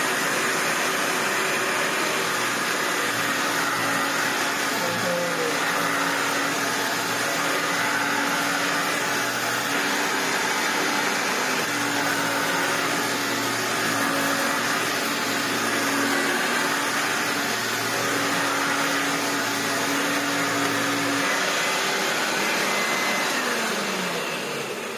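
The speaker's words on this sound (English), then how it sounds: "It's been a minute since we've turned on a proper Hoover Turbopower, isn't it?" A Hoover Turbopower Junior U1222 upright vacuum cleaner runs steadily and loudly with a constant whining motor drone, close by, with no talking over it.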